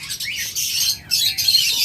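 A pair of pet budgerigars, a split blue and split ino pair (yellowface female and green male), chirp and twitter continuously at close range with busy high-pitched calls and no talking.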